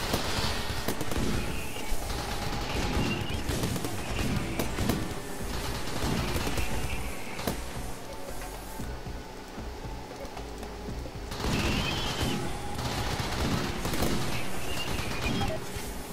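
Gunfire rattles through a RimWorld fight in dense clusters of sharp cracks and pops, with bursts nearly continuous and a short lull around the middle.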